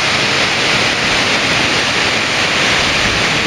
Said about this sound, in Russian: Такой водопад.